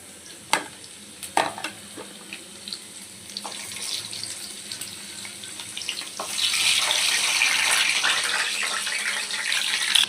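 Garlic sizzles and fries in a kadhai for tomato chutney, with scattered clinks and scraping stirs over a steady hiss that grows louder and denser in the final seconds, with no talking.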